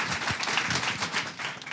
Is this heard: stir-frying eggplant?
no